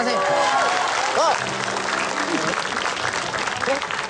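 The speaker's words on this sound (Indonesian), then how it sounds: "Wah, tepuk tangan dulu dong." A television studio audience claps loudly and continuously, filling the whole stretch, while voices speak over the applause.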